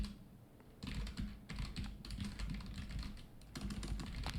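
Quiet clicking on a computer keyboard as an email address is typed into a resume, in short bursts of rapid keystrokes separated by brief pauses.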